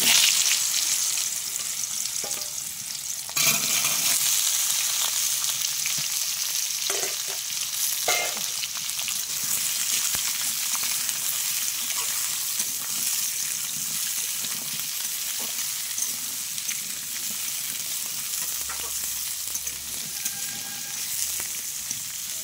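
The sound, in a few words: vegetables frying in pan for Malabar spinach dish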